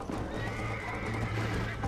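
Hooves clip-clop in a quick galloping rhythm as a horse runs in the video game Red Dead Redemption, steady and close throughout with game ambience beneath.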